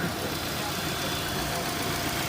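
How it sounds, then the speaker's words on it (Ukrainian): An Audi car engine idles steadily with a constant broadband rumble, loud and close, running unchanged throughout. "Двигунчик працює гарно"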